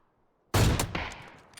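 After a brief silence, an AWM sniper rifle fires a single sharp, loud shot in a video game, and its echoing tail decays over the following second.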